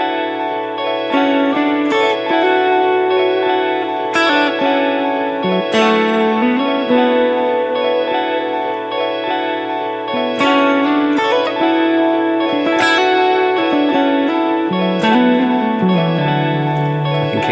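A distorted electric guitar played through a Line 6 HX Stomp XL effects unit plays a sustained solo line with bends and slides, colored by chorus and reverb effects, loud and continuous throughout.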